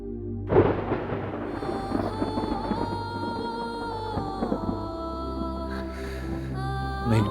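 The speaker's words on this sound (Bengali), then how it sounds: "মেঘ ডাকছে, বৃষ্টি আসছে" Deep thunder rumbles low and heavy before a storm breaks, rolling on for several seconds at a moderate distance with no voices over it.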